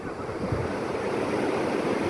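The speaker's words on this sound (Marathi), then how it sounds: "मागून तुम्ही ह्या समुद्राच्या लाटांचा गाज ऐकू शकता" Sea waves break along a long sandy beach, giving a steady, close, full roar of surf with a light wind rumble and no voices.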